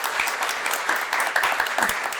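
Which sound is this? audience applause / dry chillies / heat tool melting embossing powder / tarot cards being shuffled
audience applause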